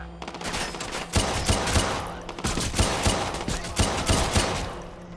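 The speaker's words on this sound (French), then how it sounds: "Il y a des coups de feu! Vous entendez?" Rapid bursts of video game gunfire crackle continuously, loud and dense, with repeated sharp shots layered over a steady rumble; no voices.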